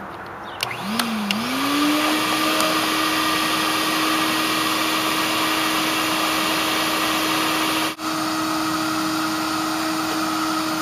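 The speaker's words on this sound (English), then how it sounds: "Getting the bee vacuum ready for the honeybee swarm capture of the century." A bee vacuum starts up to capture a honeybee swarm, its motor spinning up with a rising whine and then holding a steady, loud drone, with a few clicks at the start and one brief dip near the end.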